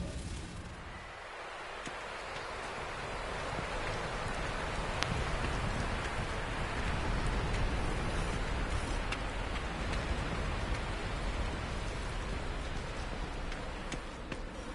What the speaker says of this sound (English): this purple rain stuff that comes up from the ground